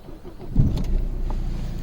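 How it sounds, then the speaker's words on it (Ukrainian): A Peugeot car engine, stationary in neutral with the ignition on, starts with a brief cranking burst and then settles into a low, steady idle hum, close by with no talking. "запалювання включене і заводимо двигун"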